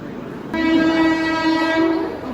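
A passing train overtakes the halted Jhelum Express with a loud, sustained horn blast over rumbling rail noise, close by and with no talk.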